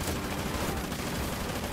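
Gunfire in the video game Call of Duty Ghosts, a continuous dense rattle of shots that stays steady and fairly faint throughout, with no talk over it.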